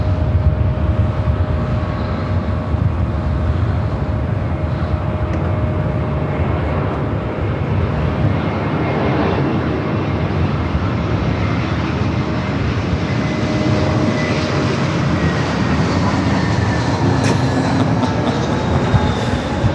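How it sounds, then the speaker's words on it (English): A JetBlue Airbus A321 jet arriving at Los Angeles airport, its broad steady engine roar filling the whole stretch at a constant loud level with a faint rising whine near the end, no voices. "We do have a JetBlue A321 up next for arrival."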